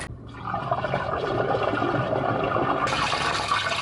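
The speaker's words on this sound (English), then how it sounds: "Let's get some water flowing." Water rushes through a drain on a work site, a close, steady gushing flow that starts up after a brief quiet moment and grows brighter and fuller toward the end.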